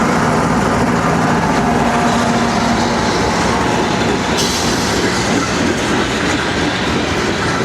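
Short southbound local freight train L391, led by units 233 and 400, rolls past close trackside near Casky, Kentucky, with continuous loud rumble and wheel clatter throughout and no talking.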